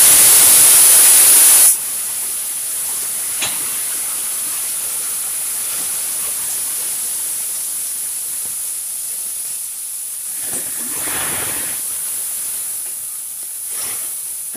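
Vegetables cook in a pan over fried onion and dried chilli, producing a steady, even hiss and sizzle that holds for many seconds, with a brief louder burst at the start and no talking.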